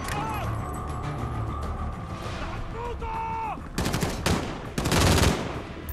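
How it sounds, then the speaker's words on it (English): Gunfire from the video game Modern Warfare cracks out in two loud bursts near the end, after a stretch of quieter game sounds and voices. "I can just shoot them now."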